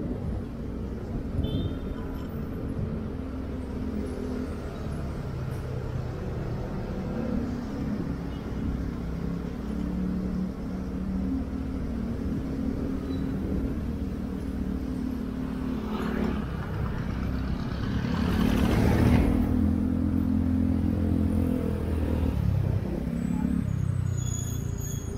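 A motorcycle engine runs on the road at a steady low drone under wind noise, swelling louder near the end as the bike picks up speed.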